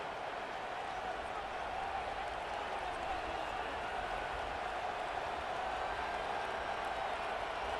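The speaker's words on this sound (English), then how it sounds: "And with this place rocking, the crowd forces a false start" Stadium crowd roaring loudly in a college football video game, UNC at Alabama, a steady dense wall of cheering and noise that holds without a break from start to finish.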